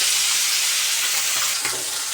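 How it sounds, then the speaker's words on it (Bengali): Tengra fish frying in a pan of hot oil: a loud, continuous, hissing sizzle right up close, steady throughout with slight crackling flutters and no voices. "মাছগুলোকে তো ভাজা শুরু করে দিয়েছি।"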